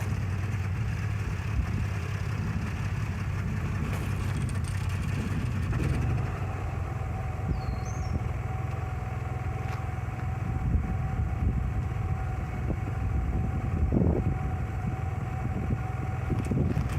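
A portable generator on a shuttle bus RV conversion runs steadily after being started with the choke, ignition and fuel valve set, giving a continuous low engine drone throughout with no talk.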